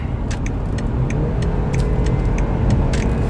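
A 2019 BMW 530i xDrive accelerates steadily to merge onto an interstate, its engine and road noise forming a loud, continuous rumble heard from inside the cabin with no talking.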